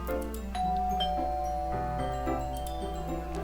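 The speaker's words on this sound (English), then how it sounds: "I press against the doorbell." A chiming doorbell rings in the visual novel game Doki Doki Fallen Angel, its clear tones sounding over steady background music.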